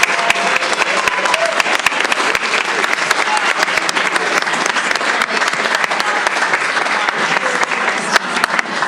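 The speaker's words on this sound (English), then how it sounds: "Please help me give them a round of applause." An audience at a school board meeting gives a round of applause for teachers, a dense, loud and steady clapping that fills the room without a break.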